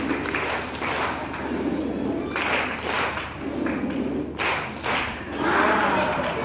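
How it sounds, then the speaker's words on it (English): A school audience gives a rhythmic love clap, producing patterned bursts of thudding claps that rise and fall in a steady beat and fill the room. "Please, I would love you to give your parents and the school a love clap."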